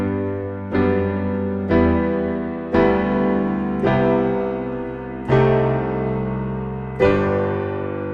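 Solo piano plays the outro of a song, six slow, ringing chords struck roughly every one to one and a half seconds, each left to sustain, warm and close with no talking.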